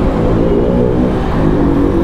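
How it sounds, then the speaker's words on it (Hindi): A Hero Splendor motorcycle with a modified loud silencer goes by on the road, a steady, loud, rough exhaust drone filling the whole moment without any voices. "स्प्लेंडर जा रही है, साइलेंसर वो करा रखा है शायद, मॉडिफाई शायद"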